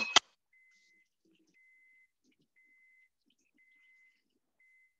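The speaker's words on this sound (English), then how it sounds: "My oven is beeping, letting me know that it is ready for the cake" A sharp click, then a thin electronic beep repeating at a steady pace as an oven signals it is preheated, quiet and alone in a silent room.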